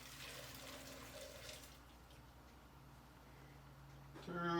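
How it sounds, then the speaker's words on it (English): Elderberry juice pours from a container into a strainer while making elderberry syrup, a soft liquid trickle and splash running steadily throughout, with a brief clatter near the end. "I'm just gonna pour this in."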